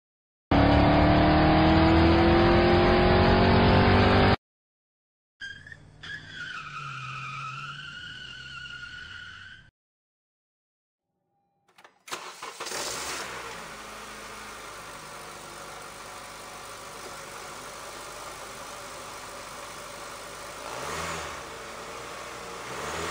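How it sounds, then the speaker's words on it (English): A set of car sound effects plays in separate bursts: a loud, sustained engine rev, then a wavering whine with tire skid as the car drifts, then after a pause a steady engine drone. "First, we'll work on the engine sound."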